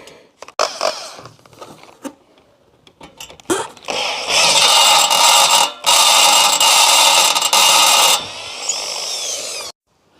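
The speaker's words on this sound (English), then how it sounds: "the way to drill a rivet out is to drill the centre" A power drill drills out a rivet on a Rolls-Royce Silver Spirit of Ecstasy mascot, starting with a few short clicks and taps, then rising into a loud, sustained high whine that cuts out briefly before it tails off.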